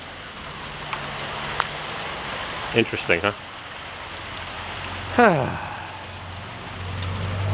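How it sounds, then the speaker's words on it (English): Steady rain patters outside around a small home repair job on a back door hatch and latch, a constant wash of drops under brief speech, with a couple of short clunks and a sliding squeak mid-way. "Rain, rain, go away."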